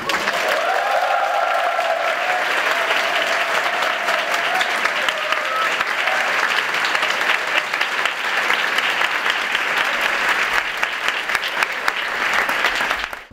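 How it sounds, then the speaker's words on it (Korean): A seminary community gives new students a big welcoming round of applause, sustained, loud, even clapping from a large group that carries on for many seconds with a brief voice or tone near the start. "신입생 학생님들이 큰 박수로 맞이해주세요"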